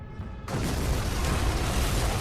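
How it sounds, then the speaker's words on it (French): A series of explosions in a dramatized story scene, a deep roaring blast that erupts after a short quieter lead-in and rumbles on loud and dense. "Une série d'explosions l'a dévié de sa course"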